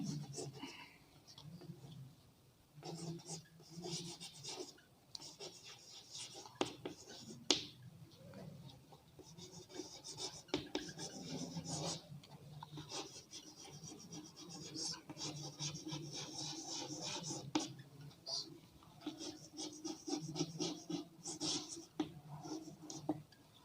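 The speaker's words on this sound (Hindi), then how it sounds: "हम लिखते हैं" Chalk or marker scratching across a classroom board in short irregular strokes and taps, fairly faint and close, continuing steadily with small pauses throughout.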